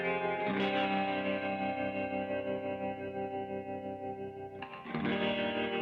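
A Kay 6535 guitar plays a sustained, ringing chord passage through effects with chorus and distortion, notes held and decaying before a fresh strum near the end, heard alone without talk.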